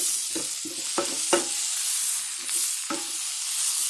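Fresh spinach is stirred and wilted in a hot pan for a vegetable filling, with a run of distinct scraping stir strokes over a continuous soft sizzle, close by and with no voices.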